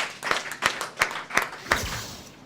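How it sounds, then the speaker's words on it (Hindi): A handful of evenly spaced claps, about five, ring out fairly close at a Hindi poetry gathering as a woman poet is invited to the stage, then trail off into quiet room tone. "हम आमंत्रित करते हैं सुश्री मधु मिश्रा जी को, आपकी जोरदार तालियों के बीच।"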